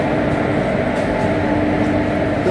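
Tamralipta Express stands at a platform in Howrah station, giving off a constant loud rumbling drone like an idling locomotive or coach ventilation, unbroken and with no talk.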